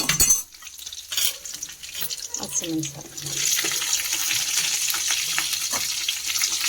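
Green chillies drop into hot oil with garlic and curry leaves for tamarind rice, setting off a close, steady sizzle that builds and holds after an initial clatter and stir.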